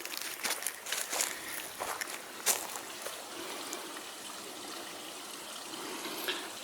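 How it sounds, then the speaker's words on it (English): A creek flows near the site of an old railway water tower foundation, a soft continuous babble of trickling water with a few sharper splashes and clicks, moderately close and with no talking. "You can hear the creek."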